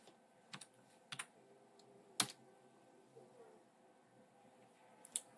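Soft, sparse keystrokes on a computer keyboard as a password is typed, a few scattered clicks and one sharper tap in a quiet room.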